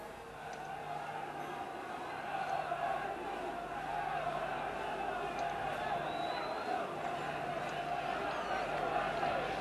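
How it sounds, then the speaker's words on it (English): Football crowd at a 1991 Sunderland versus Leicester Division Two match, a distant, faint roar that swells partway through and stays raised beneath a commentator's voice. "it certainly brought the crowd to life"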